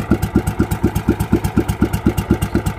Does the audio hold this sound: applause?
no